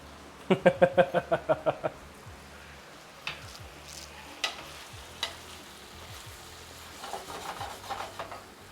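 Tomatoes, garlic and beans cook in a paella pan, giving a soft steady sizzle beneath quick scraping stirs and a few clinks of a utensil, with brief rhythmic tapping at the start.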